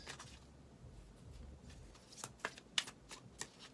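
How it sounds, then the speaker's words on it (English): Tarot cards being shuffled by hand, a soft continuous riffling that turns into sharper, closer card snaps and flicks near the end, with no talking. "Can we get another card? Just one."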